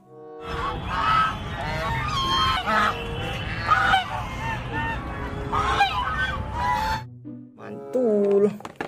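Goose honking repeatedly in loud, nasal bursts for about seven seconds, followed by a couple of softer calls after a short pause, with a voice speaking over the sound at times.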